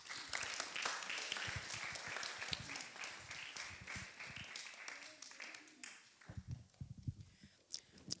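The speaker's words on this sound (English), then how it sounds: "another round of applause for our Group 3 children" Applause for the Group 3 children at a weekly bhajan session of the Sri Sathya Sai Organisation in Milton Keynes, a room full of people clapping that fades into scattered claps, footsteps and quiet murmuring.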